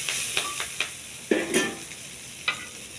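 Curry leaves, onions and ginger garlic paste fry in a pan with a soft steady sizzle, broken by several light scraping stirs and clinks from a utensil, close and fairly quiet with no talking.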